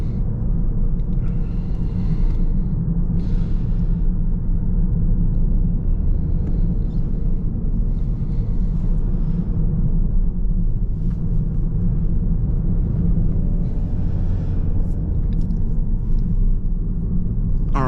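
A 2023 Toyota Corolla hybrid cruising on the road, heard from inside as a steady low rumble of road and tyre noise, with a few faint passing swells and no one talking.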